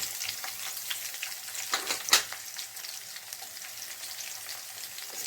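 Onions fry in a pan for sorekayi mosaru sambar while being stirred by hand, a faint continuous crackling sizzle with occasional scraping stirs and a brief louder clatter.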